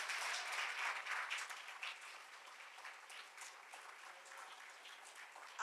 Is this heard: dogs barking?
no